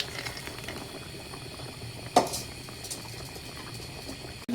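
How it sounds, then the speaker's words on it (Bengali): Water bubbles at a rolling boil in a pot for a Bengali puti fish curry with lentil dumplings, with a steady bubbling patter and a brief louder splash partway through. "জলের বলক এসেছে, এখন মাছগুলা দিয়ে দেব।"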